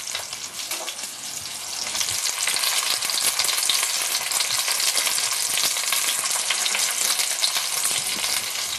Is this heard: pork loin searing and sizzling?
yes